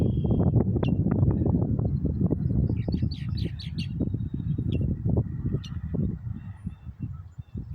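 A red-winged blackbird calls outdoors, a short buzzy trill rising over a loud, low, rumbling background with honking from geese or other birds nearby.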